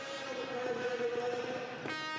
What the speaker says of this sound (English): You can hear the air horns going in the background,